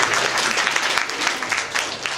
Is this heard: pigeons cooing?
no